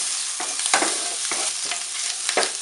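Bacon frying until crispy crackles in a continuous close sizzle, broken by several rhythmic stirring scrapes of a utensil against the pan.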